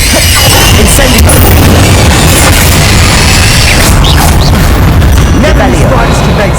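Incendio fire spell cast in Hogwarts Legacy, a loud, dense rumbling burst of fiery magic that roars continuously with crackling highs, sustained at high level throughout.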